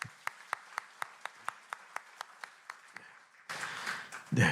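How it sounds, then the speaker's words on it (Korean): Steady rhythmic clapping at a Korean church Sunday service, about a dozen evenly spaced claps in a row, followed by a sudden swell of broader, noisier sound at the end. "우리 축복의 박수 하도록 하겠습니다"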